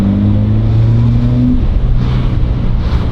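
A Honda Jazz with a DIY intake modification revs its engine, a loud close rising drone with a strong low harmonic that climbs and then falls back to a rumbling idle.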